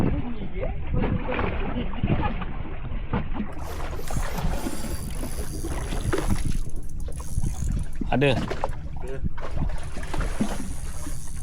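A Honda outboard engine pushes a fishing boat on the sea off Kemaman, a steady rumbling wash mixed with wind and water noise, with occasional voices nearby.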